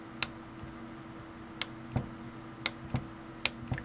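A torque wrench clicks repeatedly as it tightens an SMA connector to 25 inch pounds, with sharp, evenly spaced clicks over a steady low hum and no talking.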